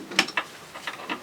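An adjustable wrench works a rear bushing bolt on a Polaris ATV, giving a few short close metallic clicks and scrapes spaced unevenly over about a second.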